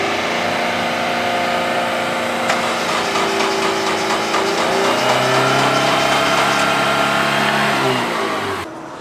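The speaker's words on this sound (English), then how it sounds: "Well, we had it idling" A Mazda Miata engine runs steadily at idle close by, a droning hum with shifting tones that swell slightly midway before cutting off at the end.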